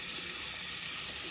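Water runs steadily from a household tap while someone checks a hot water heater that delivers only warm water. The hiss is continuous, close and fairly soft, with no talk over it.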